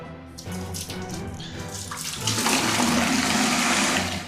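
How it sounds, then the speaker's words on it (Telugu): Water pours steadily from a tap into a bucket, a continuous splashing rush that swells louder partway through and stays close and constant with no talking. "ఫస్ట్ బకెట్లో కొన్ని వాటర్ పోసుకొని పెట్టుకుందాం రెడీగా"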